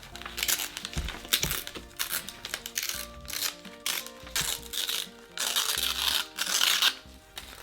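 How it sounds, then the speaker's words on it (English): Paper is ripped by hand for a sketchbook page in several short tearing bursts mixed with crinkling and handling noises, close and fairly loud, with no talking. "Instead of cutting it straight across, I want it to be ripped like this."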